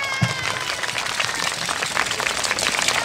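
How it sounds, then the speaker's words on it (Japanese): Audience applause for the judges at the final performance of a Japanese summer dance festival, a dense steady clapping that continues through the whole moment at an even loudness. "はい、審査員に拍手。"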